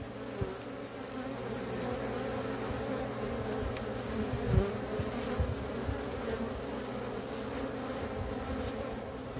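Honeybees carrying pollen on their legs buzz at an apiary hive in a dense, continuous drone, close and steady, with a few louder passes near the microphone and no talking.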